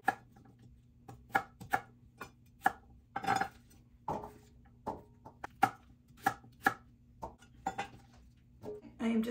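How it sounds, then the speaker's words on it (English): Sweet potatoes being peeled for a casserole, heard as a close series of sharp scraping and knocking strokes at an irregular pace over a low steady hum, with a few clinks of kitchenware and no clear talking. "now I'm getting sweet potato peels everywhere."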